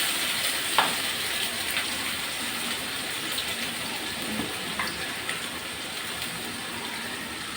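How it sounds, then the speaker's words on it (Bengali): Potatoes and carrots frying in oil for khichuri give a steady, dense sizzle throughout, with a few faint clinks of stirring scattered over the constant crackle and no talk. "খিচুড়িতে সবজি দেবো একটু সেজন্য আমি আলু গাজর একটু ভেজে নেব"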